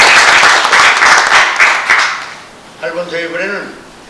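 Applause from an audience at a Korean gathering as guests at tables are introduced, a dense burst of clapping for about two seconds that fades, followed by a voice speaking.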